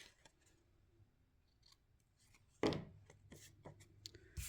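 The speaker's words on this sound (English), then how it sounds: "then you're going to trim those ends so they look nice" Scissors snip the ends of paper on a handmade card, with a few faint cuts and then two sharp, crisp snips up close in a quiet room, without any talking.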